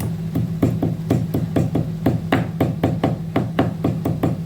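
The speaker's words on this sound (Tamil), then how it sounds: "இப்போ நம்ம ஒரு 3 ஏலக்காய் தட்டி போட்டுடலாம்" Three cardamom pods are pounded for a sweet kali dish, giving a fast, even run of sharp close thuds, roughly four strikes a second, with no talking over them.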